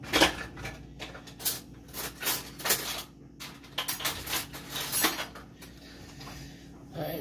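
Metal spoon clattering among dishes and cutlery in a kitchen while sea moss gel is being blended, with a series of sharp clinks and rummaging knocks at close range, no talking.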